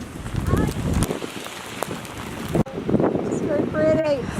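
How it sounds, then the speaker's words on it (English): Rain falls steadily on a rainy coastal road trip, a soft constant patter with a gusty wind-like rush, heard under bits of talk. "It's very rainy, but"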